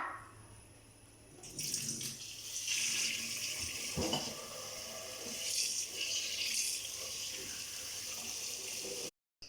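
Tap water runs steadily into a container for soaking chopped amaranth leaves, a continuous close hiss and splash with a brief clatter near the middle, then cutting off at the end.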